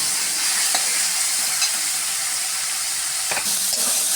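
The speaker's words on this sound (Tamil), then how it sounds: "பாருங்கள் வெங்காயமும் இஞ்சி பூண்டும் வதங்கிட்டு ரொம்ப ஃப்ரையாக வேணாம்" Onion, ginger and garlic sauté in a pan for a banana stem kurma, a steady close sizzle with a few sharp stirring scrapes, no voices.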